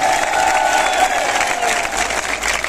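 A large crowd at a public poetry event in Karauli applauds loudly and continuously, with dense clapping and some cheering filling the whole stretch.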